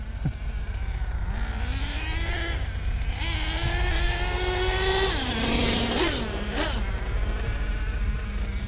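Savage XL RC truck fitted with a Force .32 nitro engine running nearby, a buzzing whine that rises and falls through short revs and settles back to idle, fairly steady and alone with no talk.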